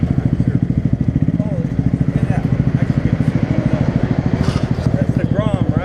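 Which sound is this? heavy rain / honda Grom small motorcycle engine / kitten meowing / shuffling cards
honda Grom small motorcycle engine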